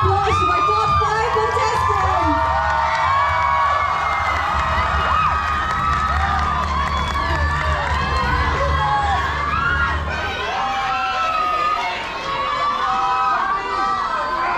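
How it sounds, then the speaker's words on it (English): Crowd at a campus fashion show in Mizoram cheering and shouting loudly for the top five finalists, a dense sustained roar of excited voices and whoops with a low hum underneath, steady throughout. "Everyone, please give a round of applause to my top five"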